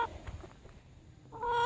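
Chickens, including older hens and roosters, cluck and murmur close by in short bursts, followed by a louder, drawn-out squawk at the end.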